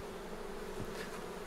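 Honeybees at an open beehive on an organic apiary make a steady, close, even buzzing hum that continues throughout without pause.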